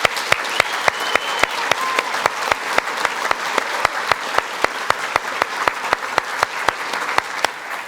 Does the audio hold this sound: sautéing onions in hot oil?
no